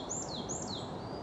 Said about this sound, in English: All I can hear at the minute up there is what I believe to be a great tit.